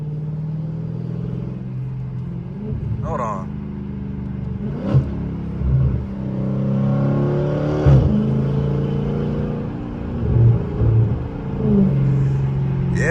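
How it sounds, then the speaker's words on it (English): A Dodge Charger with a tuned exhaust rumbles nearby, its deep exhaust swelling through several throttle blips over about thirteen seconds, while someone says a few brief words. "This car, man, like, it just got like a different exhaust note to it"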